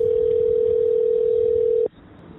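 Steady single-pitch dial tone on a phone line while a call is placed to the police emergency number 110, loud and continuous for nearly two seconds before cutting off into quiet line hiss.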